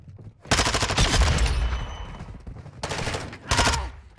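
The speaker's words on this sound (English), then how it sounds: "Stop shooting me!" Automatic gunfire in Call of Duty: Modern Warfare II, loud close bursts of rapid shots, a long burst followed by two shorter ones with brief gaps between them.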